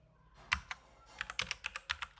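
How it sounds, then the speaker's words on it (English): Quiet, close typing on a computer keyboard during coding practice, with scattered key clicks building into a quicker run of taps toward the end. "I think there's a problem with my keyboard, it's printing the things two times."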